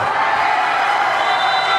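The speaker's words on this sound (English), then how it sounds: "the crowd is shouting, is cheering for Team Australia" Home crowd at an indoor volleyball match roaring and cheering for the Australian team, a loud continuous wash of shouting voices.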